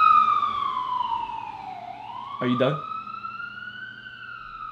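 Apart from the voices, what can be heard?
ambulance siren passing outside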